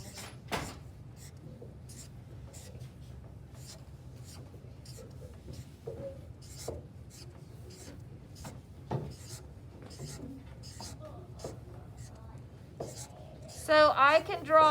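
Pencil drawing a pattern on paper: soft, close scratchy strokes in short repeated bursts, fairly quiet, with brief speech near the end.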